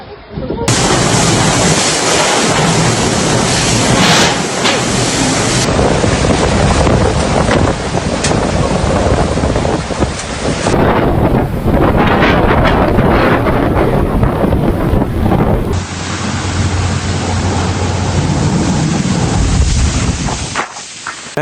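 Typhoon Kalmaegi winds tearing across the Visayas in the Philippines, a loud, relentless roar of gusting wind buffeting the microphone without pause, with broad rushing noise like surf throughout.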